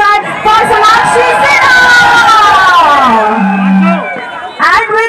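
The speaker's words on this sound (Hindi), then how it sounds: "तालियां हो जाए फॉर सोनाक्षी" Lively crowd of onlookers at a jewellery store event in Aligarh for Sonakshi Sinha, cheering and shouting in a dense babble of voices with a loud announcer's voice over the noise.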